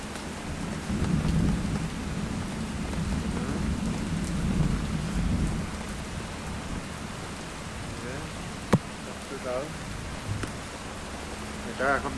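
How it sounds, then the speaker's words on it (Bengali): Heavy early-morning downpour with rolling thunder, a constant loud hiss of rain on surfaces throughout, one sharp crack partway through, and a voice speaking briefly over it. "ও বৃষ্টি রে"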